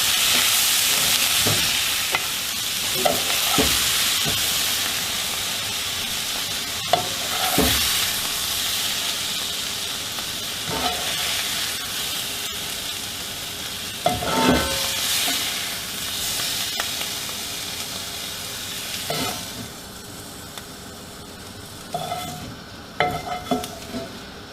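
Brussels sprouts with bacon sizzling in a skillet, a steady frying hiss broken by occasional stirring scrapes and clinks of a utensil against the pan, close and moderately loud, with no talk.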